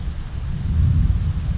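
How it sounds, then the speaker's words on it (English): Rain falls steadily outdoors while thunder rolls in a low, continuous rumble, with no voices. "it started raining"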